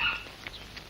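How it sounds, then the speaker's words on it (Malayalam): A dog gives a few short, faint barks and yips in a brief burst, with room noise around them. "ഈ ജന്തു കുരയ്ക്കുന്നോ?"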